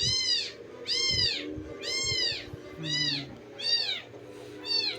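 Orphaned kittens meowing while being fed milk, a series of about six high, insistent meows at a steady rhythm, close and clear, with faint handling noise underneath.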